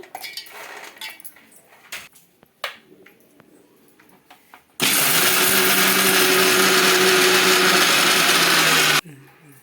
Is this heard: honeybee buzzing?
no